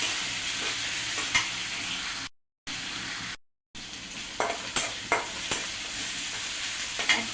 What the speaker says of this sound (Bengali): এখন আমি রসুন বাটা, আদা বাটা এক চা চামচ দিয়ে দিলাম